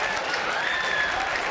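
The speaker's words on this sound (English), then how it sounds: "Getting a nice round of applause, too." A crowd at a high school state track and field championship applauds a record-setting finish, a steady wash of clapping with an announcer talking over it.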